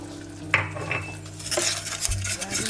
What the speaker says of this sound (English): Just give that a nice stir in